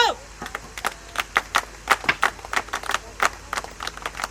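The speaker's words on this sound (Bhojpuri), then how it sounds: "स्पेशल ताली" A group claps a special rhythmic clap on command at a wedding gathering, with sharp, closely spaced bursts of many hands in a patterned sequence, nearby and lively, with no talking over it.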